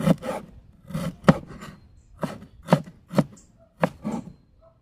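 A knife slices ginger lengthwise on a cutting board while chicken bicol express is being prepared, a series of about nine distinct, close, woody chops and scrapes spaced unevenly with quiet gaps between them.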